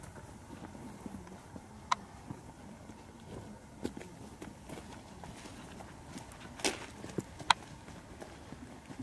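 A horse's hooves strike the ground in a lengthened trot across an arena diagonal, faint and rhythmic with a few sharper footfalls standing out over quiet background.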